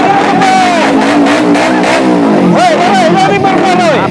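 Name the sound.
motorcycle engine revving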